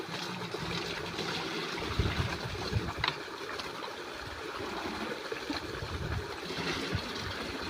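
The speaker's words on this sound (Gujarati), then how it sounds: "આપણે પાણી આવે છે તો પાણી ભરીને આપણે નાખી દઈએ છીએ" Water runs steadily into a container, a continuous trickling and splashing stream heard close up, with no talk over it.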